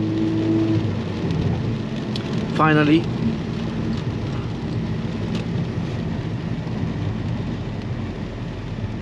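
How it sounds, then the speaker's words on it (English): Steady rain pours down around a car stuck in traffic, a dense constant hiss with a low rumble, while a person speaks briefly. "Rain and traffic."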